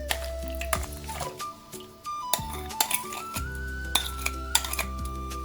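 A spoon clinks against a bowl while stirring 200 grams of yogurt with pineapple compote syrup, with several short, bright taps scattered irregularly over a steady low hum.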